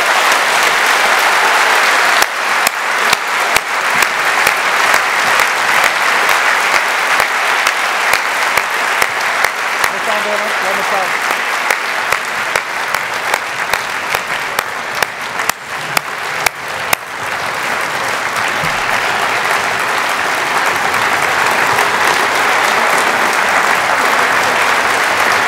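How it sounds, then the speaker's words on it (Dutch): Loud, sustained applause from a party congress crowd, dense clapping that holds steady for the whole stretch and eases slightly toward the end. "Vrienden, geef ze een geweldig daverend applaus."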